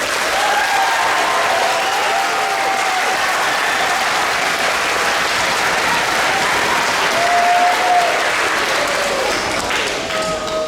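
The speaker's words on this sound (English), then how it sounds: "let's give them a huge round of applause" At a middle school band spring concert, the audience claps loudly and steadily for the symphonic band, a dense crowd applause sustained for over ten seconds with a few whistles rising above it.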